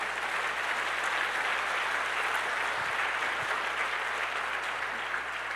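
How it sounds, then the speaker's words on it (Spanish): A church congregation claps for the Lord in a steady, dense, even applause that holds at constant loudness throughout, with no talk over it. "Dele un fuerte aplauso al Señor."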